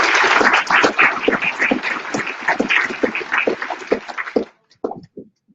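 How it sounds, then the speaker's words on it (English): Commencement crowd at a university campus ceremony claps in a dense, steady round of applause, then it thins out and stops, leaving a few scattered claps. "Give them a round of applause."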